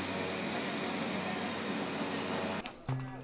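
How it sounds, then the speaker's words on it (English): Airplane at Lukla Airport, a steep mountain airstrip, roaring steadily as it lands or takes off, loud and close with a dense broadband engine and propeller wash that cuts off abruptly near the end, leaving quieter ambient noise. "The scene of flight landing and taking off at Lukla Airport"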